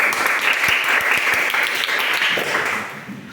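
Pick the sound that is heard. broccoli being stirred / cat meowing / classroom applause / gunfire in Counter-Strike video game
classroom applause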